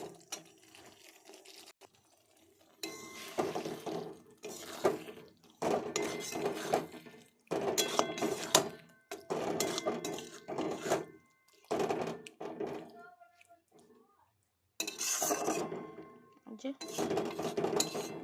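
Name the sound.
meat added to hot oil in a cooking pot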